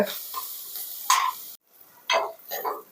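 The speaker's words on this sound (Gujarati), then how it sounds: "તો તમે જોઈ શકો છો કે ડુંગળી છે એકદમ બ્રાઉન કલરની થઈ ગઈ છે અને સરસ શેકાઈ ગઈ છે" Onions fry in a pan, soft sizzling with brief bursts of stirring and scraping, a sharp cut to near silence midway, then louder sizzle and stir noises returning.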